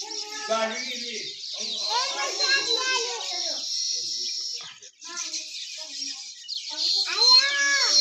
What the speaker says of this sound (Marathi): चिमण्याला आली बघा चिमण्या